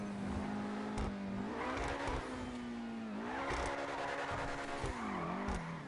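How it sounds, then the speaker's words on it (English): Obey 10F sports car in GTA 5 drifting with a sustained high engine whine that rises and falls between gear shifts, layered with tyre squeal and skidding noise across the whole stretch. "You can drift this car."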